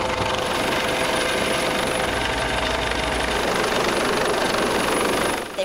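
A steady, loud mechanical drone with rapid rotor-like chopping fills the whole stretch, unbroken and close, easing off slightly right at the end.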